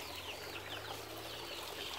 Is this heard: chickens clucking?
yes